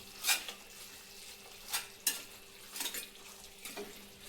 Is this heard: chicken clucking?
no